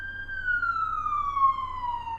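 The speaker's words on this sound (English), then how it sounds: "There's a emergency vehicle going by my house right now." An emergency vehicle siren passes a house, one steady wailing tone that slowly falls in pitch as it goes by, heard from indoors at moderate level with faint low traffic rumble beneath.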